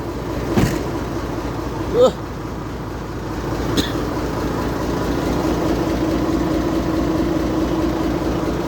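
Car engine idling, a steady low rumble that continues throughout, with a few brief clanks or knocks in the first few seconds and the hum growing slightly fuller toward the end.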